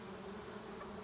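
Honey bees from a swarm colony buzz densely around an opened five-frame hive box, a steady close hum with no voices.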